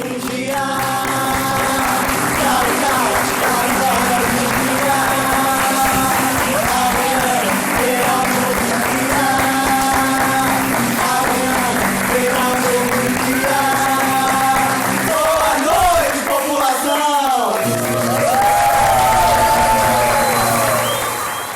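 A theatre audience applauds steadily and loudly after a performance while four actors sing over the clapping, the applause running unbroken throughout.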